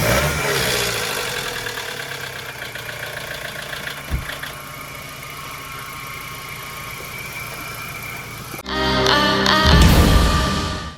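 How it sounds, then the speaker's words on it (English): A BMW 316i engine idles with a worn, rattling timing chain, a close, steady mechanical clatter over the engine drone that continues for most of the stretch, ending in a louder, harsher burst. "This right here, guys, is the sound of a rattling chain."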